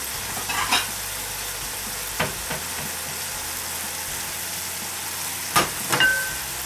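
Stir-fry vegetables sizzle in a de Buyer carbon steel pan, a steady low hiss broken by a few sharp clatters of stirring or utensil contact near the start and end.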